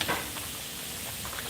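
Pork menudo stew bubbles in a pot with a steady sizzling, hissing simmer and soft popping, close and continuous, with no talk.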